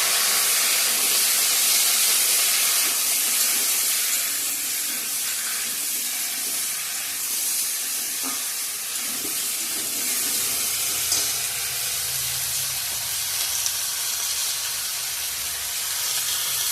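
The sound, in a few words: raw banana vegetable sizzling in hot oil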